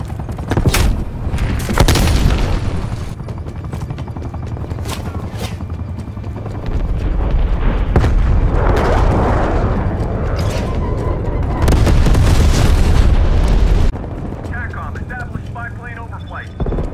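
Frag grenade blast and ongoing combat in the Call of Duty Black Ops Cold War video game: loud booms, bursts of gunfire and aircraft rumble pile up through a dense, continuous battle mix, with voices calling out over it.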